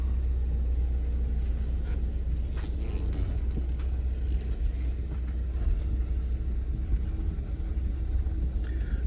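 A 2013 Ford Escape rolling slowly down a driveway, a steady low engine rumble and tire noise from inside the cabin, with occasional faint creaks and clicks and no talking.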